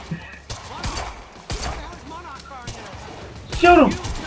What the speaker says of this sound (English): You heard the gun.